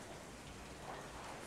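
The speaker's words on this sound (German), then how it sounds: "Es regnet." Moderate rain falling steadily on a courtyard, a continuous even hiss of drops with no pauses, heard alone without voices.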